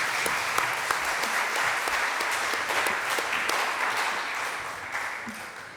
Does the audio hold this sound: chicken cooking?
no